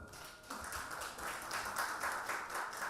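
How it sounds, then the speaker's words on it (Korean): An audience at a national safety competition ceremony in an arts hall applauds to welcome a speaker, a dense, steady wash of many clapping hands heard from within the room, moderately loud and sustained. "박수로 환영해 주시기 바랍니다."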